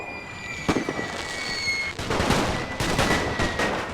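Gunfire crackles through a World War I battle in the video game The Great War, with mortar crews being shot to pieces. Rapid volleys and sharp cracks come in bursts over a steady din, with no voices.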